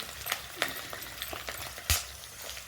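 Garlic, ginger and curry leaves fry in a pan with a soft continuous sizzle and crackle, broken by a few sharper pops and spoon clinks, quiet and close with no voices.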